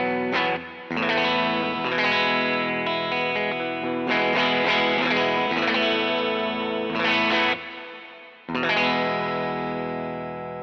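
Electric guitar chords from a Harmony Rebel in the middle pickup position, played through a Pettyjohn Chime MKII pedal with mild reverb, ring out bright and shimmering, sustaining loudly with two brief pauses between strums.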